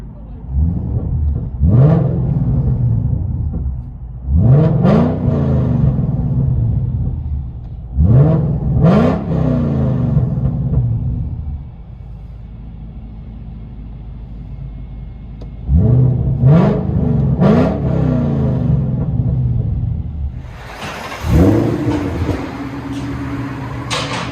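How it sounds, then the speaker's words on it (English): A 2012 Shelby GT500 Mustang with a supercharged 5.4L V8, long-tube headers and Corsa dual exhaust, heard from inside the cabin, revs hard in five or six sharp rising bursts, each dropping back to a rumbling idle. "Shelby GT500 Ford Mustang. Listen to this beast."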